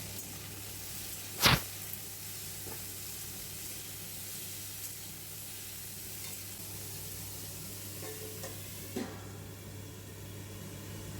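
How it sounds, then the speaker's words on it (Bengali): Cauliflower frying in oil with salt and turmeric, a faint, even sizzle holding steady, with one sharp clack of a utensil early on and a softer knock near the end. "ফুলকপি সবগুলো তেলের ওপর দিয়ে উপর থেকে পরিমাণ মতো নুন আর হলুদ দিয়ে একটু নাড়াচাড়া করে"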